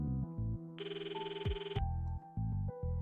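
A telephone rings inside the video game EMIO the Smiling Man, a steady electronic ring tone of about one second that sits over looping game music with low pulsing notes.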